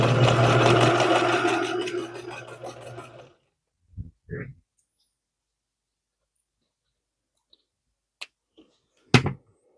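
A sewing machine stitches a quilt nine-patch block in one steady, close whirring run of about three seconds, followed by quiet with a few soft clicks and knocks.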